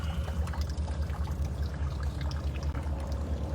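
Fresh water from a dock hose gushes steadily out of a boat engine's ports, flushing out salt water: a continuous close pouring and splashing rush with no pauses.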